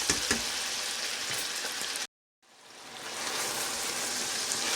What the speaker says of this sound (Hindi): गोश्त अच्छी तरह हमने भून लिया है